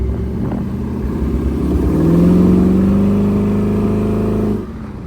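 A 1932 Ford Roadster hot rod engine revs up smoothly from idle, rising in pitch to a loud, sustained drone before dropping off abruptly, heard close and alone.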